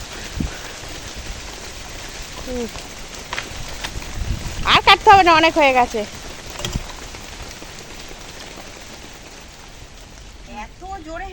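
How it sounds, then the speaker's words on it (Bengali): Rain falls steadily outdoors as a soft, constant patter, with people talking nearby and a short burst of louder voices midway. "বৃষ্টি এসে গেল দেখবে উ কি বৃষ্টি এসছে দেখো আকাশটা দেখো"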